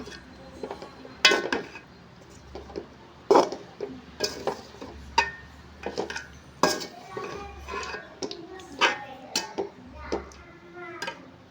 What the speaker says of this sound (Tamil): நல்லா கிண்டி விட்டுக்கலாம் சும்மா நல்லா கிண்டி விட்டுக்கலாம்